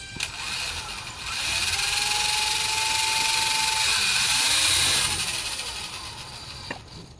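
An RC model airplane engine spun up on the ground without taking off, a steady high buzzing whine that rises after a second, holds for several seconds, then drops back down, loud and close.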